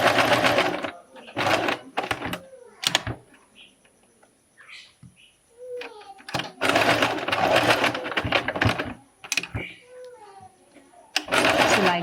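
A sewing machine runs in several short bursts, back stitching on a bra top toile, each burst a rapid, close mechanical whir separated by pauses and handling clicks.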